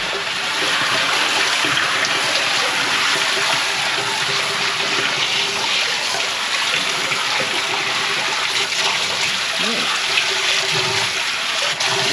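Water rushing steadily through a sewer line, a continuous loud gurgling flow with no pauses and faint voices now and then underneath.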